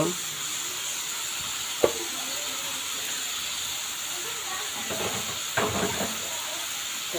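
A paste of ground cumin, ginger, garlic, cardamom and cinnamon sautés in a pan for fried beef brain, giving a faint, steady hiss with a couple of sharp clicks and scrapes.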